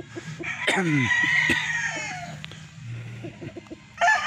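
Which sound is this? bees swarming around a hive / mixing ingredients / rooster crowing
rooster crowing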